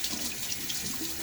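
Running tap water splashes at a sink as a face is wetted before shaving, a soft close wash of flowing water with no talk.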